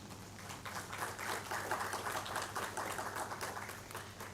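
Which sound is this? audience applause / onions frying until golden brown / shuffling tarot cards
audience applause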